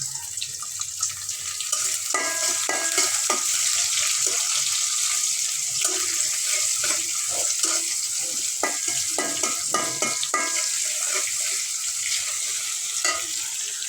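Onions frying in oil with panch phoron, the Bengali five-spice mix, a steady broadband sizzle that runs throughout, with spatula stirs and scrapes clicking in irregular bursts near the mic.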